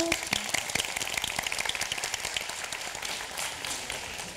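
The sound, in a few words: audience clapping at a debate final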